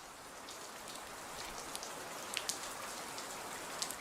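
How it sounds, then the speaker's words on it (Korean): Steady pouring rain as a sound effect, a dense even hiss of falling water with occasional sharper drop impacts, continuous and moderately close. "비가 1시간이나 주룩주룩 내렸다."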